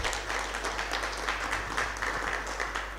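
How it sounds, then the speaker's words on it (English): Steady round of applause from a lecture audience for the panelists at the close of a session, a dense even patter of many hands at moderate distance, with no talking over it. "Let's give our panelists a round of applause."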